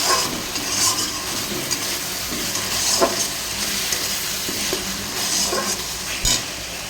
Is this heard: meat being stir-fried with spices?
yes